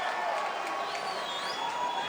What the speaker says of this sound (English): Fans on their feet, cheering on to crazy Hawaiian.